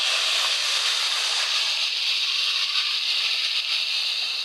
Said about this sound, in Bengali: পেঁয়াজটা ভাজা হয়ে গেছে, এখন একটু পানি দিয়ে দিব।